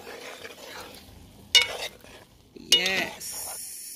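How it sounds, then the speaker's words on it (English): Sweet pepper, onion, carrot and corn pepper get stirred in a cooking pot outdoors, two bursts of metal clinks and scraping against a soft sizzle, close, with quieter gaps between. "we put in them and we stir"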